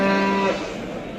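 Simmental cow mooing at a busy Turkish livestock market, one drawn-out, loud moo lasting about half a second before trailing off into crowd noise.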